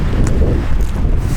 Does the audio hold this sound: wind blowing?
yes